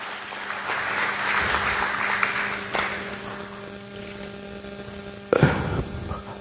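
A gala anniversary audience gives a round of applause, a moderate wash of clapping over a steady electrical hum, tapering off, with a brief louder burst of noise near the end.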